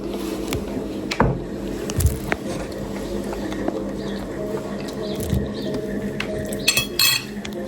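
Cutlery and dishes clink during a breakfast of coffee, peanut butter toast and boiled eggs, with scattered light knocks and scrapes over a steady room background.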